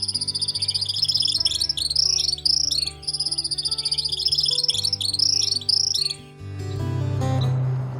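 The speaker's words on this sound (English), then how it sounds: "You can tell the couches from the tropical just by their call." Couch's kingbird calling at Santa Ana National Wildlife Refuge in the Lower Rio Grande Valley, repeated high twittering phrases in quick bursts, fairly close, with a low steady hum beneath.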